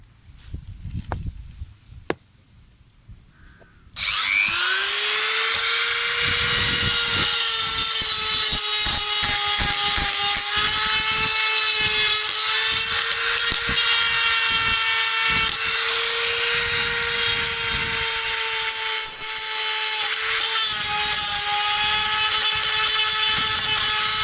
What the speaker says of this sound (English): I'm using a rotary grinder.